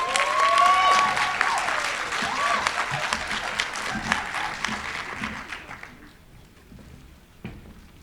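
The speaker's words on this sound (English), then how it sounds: "let's welcome him with a round of applause" Conference audience applauding warmly, loud clapping at first and then gradually thinning and fading away toward the end.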